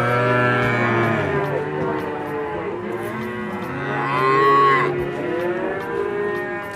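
Calves and cattle at a quiet livestock market moo over and over, several long, overlapping bellows close by, with no talking.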